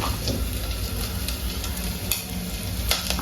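Food being stirred and mixed in a frying pan while cooking at home, a steady sizzle with soft scraping strokes of a spoon running continuously, close and moderately loud, with no talking.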